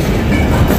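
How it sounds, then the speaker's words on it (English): A long train rolls past at a crossing with a loud, continuous rumbling roar and faint rail clatter, close and steady throughout. "it's not unusual to get caught by the train every hour on the hour"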